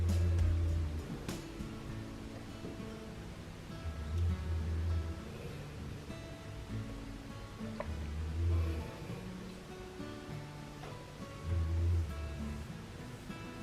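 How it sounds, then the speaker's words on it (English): Slow, rhythmic low snoring from a sleeping Shar-Pei, four deep rumbling breaths at even intervals, close by in an otherwise quiet room. "it's actually a really cute Shar-Pei dog sleeping in the background"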